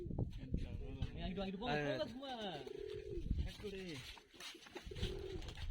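Pigeons being released coo in soft, repeated rising and falling calls, close and fairly loud, with the cooing continuing through the whole stretch.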